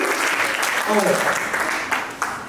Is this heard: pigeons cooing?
no